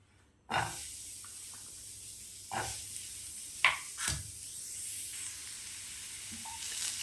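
Onions hitting hot oil for an egg curry give a sharp sizzle that settles into a quiet, steady hiss, broken by a few soft stirring scrapes and clicks.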